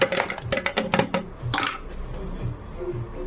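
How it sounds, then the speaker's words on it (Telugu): Ice cubes clattering into a steel mixer jar for a muskmelon drink, a quick burst of sharp clinks and rattles in the first second and a half, then settling into quieter shuffling. "అందుకని ఐస్ క్యూబ్స్ వేస్తాను అనమాట"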